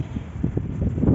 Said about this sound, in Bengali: কেমন হাওয়া দিচ্ছে দেখো